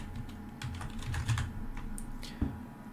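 Rapid keystrokes on a computer keyboard while laying out a drop-down menu design in Figma, a close, steady run of soft clicks with one sharper key tap near the end, no voices.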